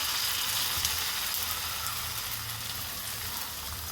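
Sesame seeds, curry leaves, asafoetida and batter sizzle steadily in hot oil for a Gujarati dunkila snack, a dense, even hiss close by with no talk over it.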